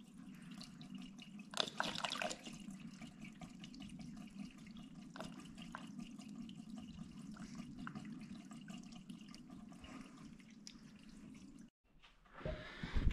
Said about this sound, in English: we just poured the coolant in, and so far, we're not seeing any signs of it leaking